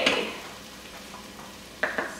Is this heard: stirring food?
yes